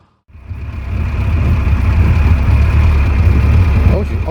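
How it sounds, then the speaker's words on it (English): A vintage 1925 Austin Seven car's engine idles steadily and close by in winter, a low continuous chugging that settles into an even rumble after a brief quiet start. "Oh, she's idling absolutely beautifully at the moment."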